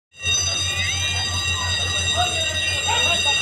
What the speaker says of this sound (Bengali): ঢাকা থেকে ছেড়ে আসা রাজশাহীগামী মধুমতি এক্সপ্রেস ট্রেনটি রাজবাড়ী রেল স্টেশনে প্রবেশ করছে।